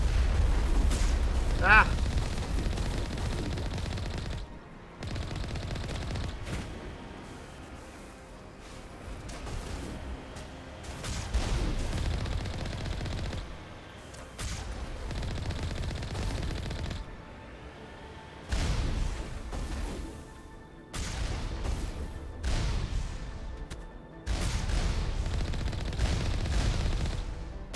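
Automated hacked turret fire in Mass Effect Legendary Edition, bursts of gunfire and booms recurring in uneven clusters through a busy combat mix, with a brief shout over the action.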